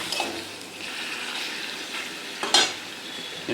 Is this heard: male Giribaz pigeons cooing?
no